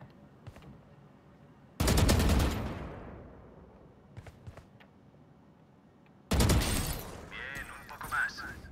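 Gunshots from the video game Valorant on PS5 ring out in two loud bursts of rapid fire, each trailing off, separated by quieter in-game ambience and small clicks.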